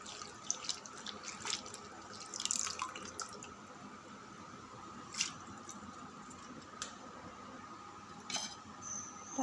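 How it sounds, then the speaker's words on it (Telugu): Lentils being washed under running water in a kitchen, a steady trickle and drip of water with occasional clinks and splashes, fairly quiet and without talk. "ఒక గిన్నె పప్పు తీసుకొని వాష్ చేసుకోవాలి"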